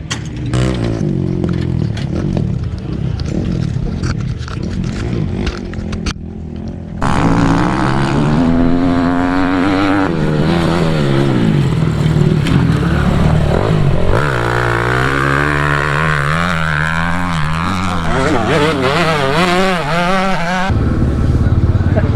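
An endurance racing motorcycle engine runs loud and close for about twenty seconds, idling then revving in rising and falling pulls, with brief talk among the crew.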